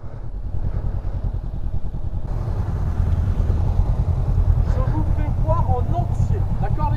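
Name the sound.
motorcycle emergency braking on training course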